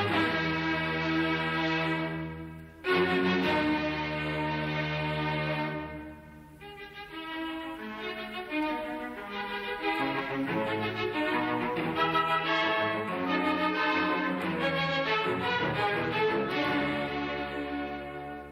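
Orchestra playing a passage of Beethoven's Fifth Symphony with a discarded sketch inserted back into the music, full sustained strings and winds with a sudden loud entry, recorded from reel-to-reel tape, no talk.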